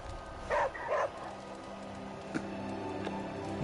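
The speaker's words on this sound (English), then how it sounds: "Hey, Charlie Warley puppy face" A dog in the Marvel Midnight Suns video game gives two short, fairly loud yips or barks in quick succession near the start, followed by quieter game ambience with a faint thump.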